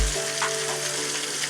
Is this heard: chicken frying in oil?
yes